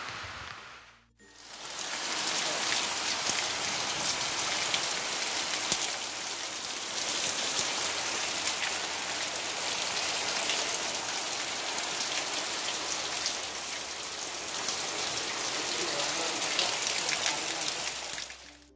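Heavy rain pours down during paddy sowing in a Konkan village, a dense, loud and steady hiss of drops on surfaces that starts abruptly and continues unbroken for about eighteen seconds with no voices.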